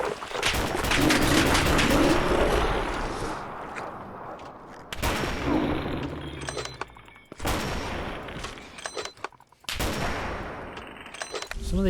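Gunfire from Fallout 4 with a Ground Zero zombie apocalypse modlist rings out in several loud volleys of rapid, overlapping shots separated by brief lulls, with a faint voice underneath.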